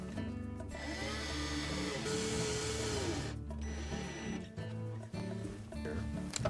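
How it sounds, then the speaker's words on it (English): A powered driver whirs in short bursts as screws go into the evaporator fan motor bracket of a GE refrigerator, with a rising and falling motor whine and light mechanical rattling close by. "We'll install the 2 bottom screws."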